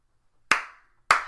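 Two sharp, loud hand claps spaced about half a second apart, each with a short decaying tail, standing alone against silence.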